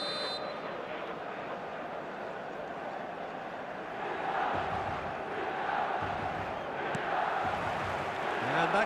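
A packed stadium crowd in the eFootball video game keeps up a steady, loud roar that swells slightly louder toward the end, with no distinct chants standing out.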